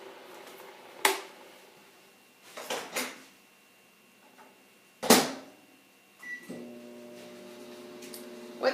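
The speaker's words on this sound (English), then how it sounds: "To save time, I'm going to microwave it in the microwave for short bursts." A microwave oven heats a solution in short bursts, with a soft running hum and a few sharp clicks and door thumps, then a steady hum as it starts again.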